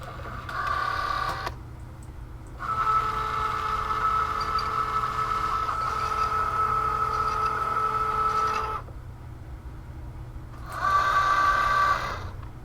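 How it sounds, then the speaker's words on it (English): Cricut Joy cutting machine loading a mat for craft plastic, its motor whirring in three distinct bursts with a longer run in the middle, a steady mechanical hum separated by short pauses. "I'm going to load my mat into the machine."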